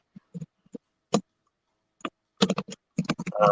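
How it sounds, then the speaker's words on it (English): Computer keyboard keys clack in irregular clusters, isolated taps at first and then quicker bursts of typing, close and clear with no talking. "someone is typing."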